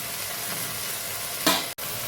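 Masala of red chillies, tomato, cashews and ginger-garlic paste frying in a pan for butter chicken gives a steady soft sizzle, with one brief louder scrape of stirring near the end.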